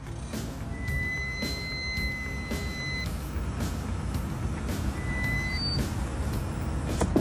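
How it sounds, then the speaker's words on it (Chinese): A car's front-wheel brakes squeal as they are applied: a thin, high, piercing whine holds for about two seconds and then returns briefly over a low road rumble. "刚刚我在踩刹车的时候，前轮这里一直发出刺耳的尖叫声。"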